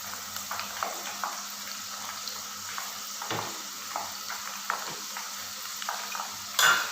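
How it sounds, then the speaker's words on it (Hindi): Batch of potato chips frying in hot oil, a steady low sizzle with occasional stirring and utensil clinks against the pan, close and continuous. "अब हम इसको निकालते हैं और बाकी की जो है वो भी इसी तरह फ्राई करते हैं"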